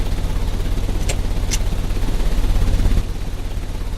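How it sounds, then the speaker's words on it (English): An engine running in the Sherlock Holmes: Crimes & Punishments video game, a steady low mechanical drone with a couple of sharp clanks partway through and a slight drop in level near the end. "The engine has started."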